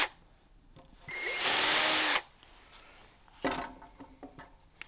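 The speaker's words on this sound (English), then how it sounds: "line it up, and we'll pre-drill the holes." A power drill pre-drilling holes in a wooden board whirs in one sustained, loud burst of about a second, followed by a shorter grinding burst and some faint handling noises.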